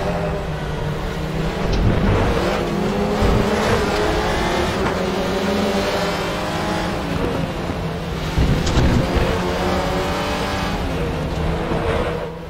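WTCR 2018 touring race cars at the Hungaroring, engines screaming and revving hard through gear changes as cars run side by side, loud and continuous.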